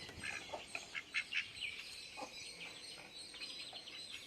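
Ducks calling from inside a farm shed, several short bright quacks and chirpy calls scattered in a quick cluster, fairly faint and distant against a steady background hiss, with no talking.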